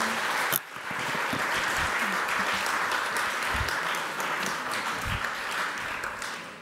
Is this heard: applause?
yes